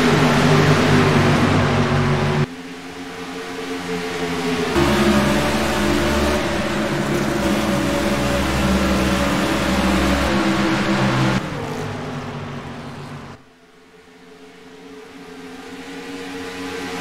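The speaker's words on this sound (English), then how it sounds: "So 2 Toyota Camrys here fighting for position, the 87 and the 99" NASCAR Toyota Camry race cars, the 87 and 99 battling for position at Kansas, roar around a turn. Their sustained engine drone stays loud and steady, with abrupt shifts in tone and a brief dip as the cars pass.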